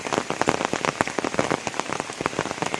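Steady rain drumming on a tarpaulin roof by a fish pond, a dense close patter of drops with no voices.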